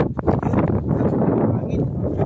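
Cold night wind blowing across the water on a net fishing trip, a close, steady rumbling gust buffeting the microphone throughout.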